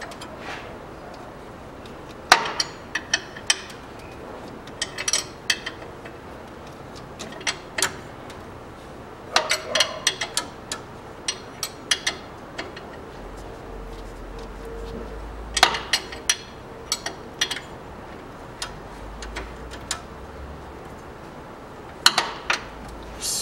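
Wrench ratcheting as a nut is tightened on the tensioner roller of a 2012 Nissan Qashqai 1.6 during a drive belt replacement, a series of scattered metallic clicks and ticks close by with no talking.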